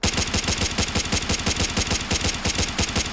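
An MP5 submachine gun with a fast receiver fires rapidly in Fallout 4, a dense, loud and steady automatic burst of evenly spaced shots that runs unbroken the whole time.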